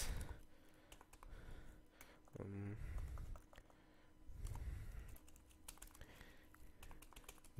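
Rapid clicking of keys on a computer keyboard as a message is typed, running steadily throughout at close range, with a brief breathy sigh-like voice sound partway through.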